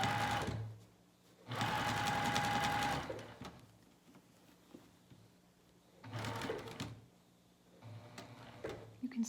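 A sewing machine stitches a pocket on pajama pants in two fast whirring runs, with short pauses and quiet handling and clicking between them, close and alone.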